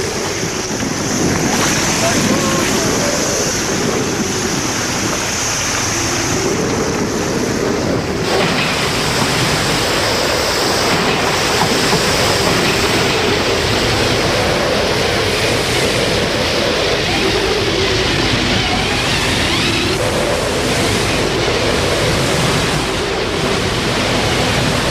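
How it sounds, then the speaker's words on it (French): Ocean waves and strong wind surround a Hobie Cat sailboat during a 1986 transatlantic crossing, a constant roaring wash of sea and wind noise buffeting the microphone, with speech faintly present underneath. "Partout, des vagues de 10 ou 15 mètres de haut, soit l'équivalent d'un immeuble de 4 ou 5 étages."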